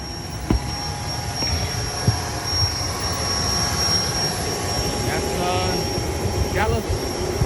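An Embraer 145 auxiliary power unit runs at Dallas Love Field at night, a steady whining turbine roar heard from the cockpit with a few faint clicks over it.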